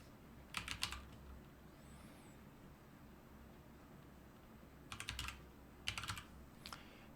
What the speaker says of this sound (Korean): 여기다 내가 이제 홍길동이라고 입력을 하고 추가를 누르면